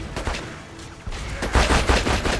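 Grenade blasts in Borderlands 2, a cluster of loud, sharp explosive bursts and crackling gunfire-like hits in quick succession, close and forceful with no talking.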